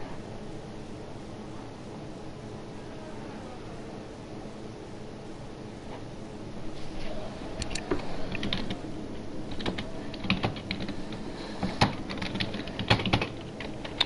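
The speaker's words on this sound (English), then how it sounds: "If you can hear me typing" Computer keyboard typing during an F1 2018 online league race commentary, clicky irregular keystrokes that start sparse and grow busier and louder in the second half, heard close up with no talk.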